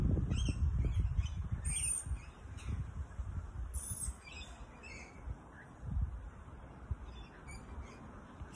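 Birds squawk and chirp outdoors in a few bright, separate calls over a steady windy background with low rumbling gusts, before a rainstorm.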